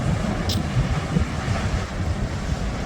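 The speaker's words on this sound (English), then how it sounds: "we've got waves twice as tall, if not taller, than these rocks" Large ocean waves, towering well above coastal rocks roughly 30 feet high at Cascais, Portugal, pound the shore as a continuous heavy roar, buffeted throughout by strong wind rumbling on the microphone, with no distinct separate crashes.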